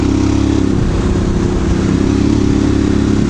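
A Ducati Desert X Rally motorcycle engine drones steadily and loudly up close, a constant low throbbing rumble with no revving or talking.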